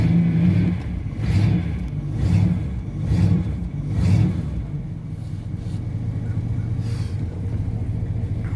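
An old car engine idles and revs just after a cold start, a low rumbling drone with several rhythmic rises in pitch early on before settling into a steady, close idle.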